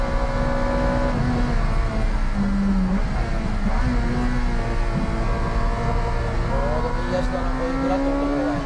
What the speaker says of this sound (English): The Spoon-tuned B18 engine seems to be running with great rev balance and precision.